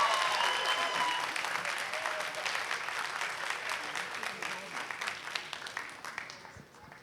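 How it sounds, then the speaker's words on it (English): An audience at a CMC alumni reunion entertainment night claps after a performance, a dense burst of applause that starts strong and gradually thins and fades over several seconds. "Can we please give them a louder round of applause, please?"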